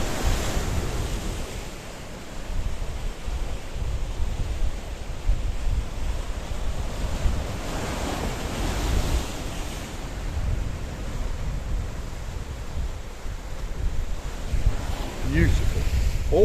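Waves wash against the Paphos coastline in Cyprus while strong wind buffets the microphone, a continuous loud roar of surf and gusts throughout.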